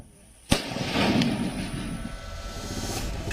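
A sharp bang goes off in a village in Bahraich, India, followed by a crackling, rumbling tail of bursting firecrackers echoing in open air.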